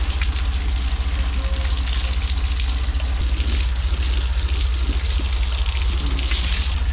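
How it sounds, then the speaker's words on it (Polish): Water sprays steadily against the plaster wall of a house while the facade is rinsed, a continuous loud hissing wash with a constant low pump-like hum underneath and no pauses. "Ok, spukujemy i jedziemy sobie dalej. Tak, żeby nie został tutaj żaden płyn."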